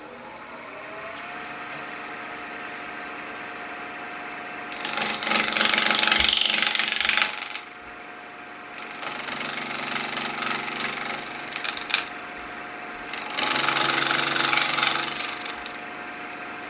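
A bowl gouge sharpened like a spindle gouge cutting wood on a lathe with the bevel rubbing, three loud rasping bursts of several seconds each over the steady hum of the running lathe.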